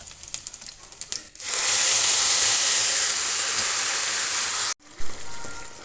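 Cooked beef is dropped into a hot pan with curry leaves and green chilli for a Kerala-style naadan beef curry, and a loud steady sizzle and hiss follows. A few light clinks come first, and the sizzle breaks off near the end.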